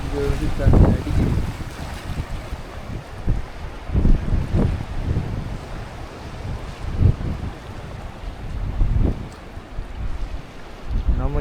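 Sea water surging against rocks on the shore at Kanniyakumari, heavy low thuds of waves breaking every few seconds over a constant windy wash of surf, loud and close with wind buffeting the microphone.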